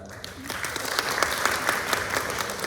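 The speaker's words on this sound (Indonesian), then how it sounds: "Tepuk tangan." Audience at an essay competition presentation clapping steadily, a dense close patter of many hands lasting a few seconds with faint voices beneath.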